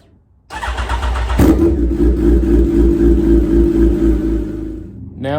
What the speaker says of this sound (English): Now we'll fire up the bike and see if they work.